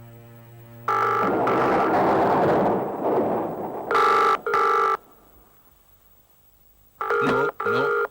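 A telephone rings in a crime drama scene: several loud, close double-burst electronic rings separated by pauses, following a rumbling dramatic sound effect, with no talk over them.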